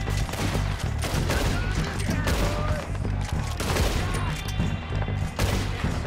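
Rapid gunshots in Red Dead Redemption 2: loud, dense bursts of repeated gunfire cracking close by, crowded together over a low droning game soundtrack with brief gaps between volleys.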